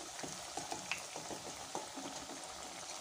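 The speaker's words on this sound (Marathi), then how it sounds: "हे बघा तर अशाच प्रकारे सर्व कटलेट तुम्ही तळून घ्यायचे आहेत." Pea cutlets frying in a pan, a soft, steady sizzle of hot oil with faint crackles and small pops, quiet and close, with no voices.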